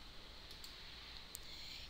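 A computer mouse clicking in a spreadsheet program, a few quiet, sharp clicks spaced irregularly over a steady low hiss.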